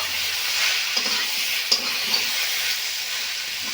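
Vegetables for Bengali shukto sautéing in a pan with spices, a steady close sizzle and frying hiss with a few soft stirring clinks, no talk.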